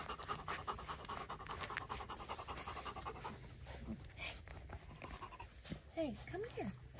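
Four-week-old Great Pyrenees puppies pant steadily and close by, with a few high whimpering whines near the end; voices seem to murmur faintly underneath.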